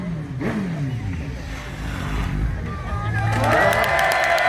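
A car drifting on a short track wears down its rear tyre with revving engine and tyre squeal, loud throughout and building near the end, while a crowd murmurs and cheers in the background.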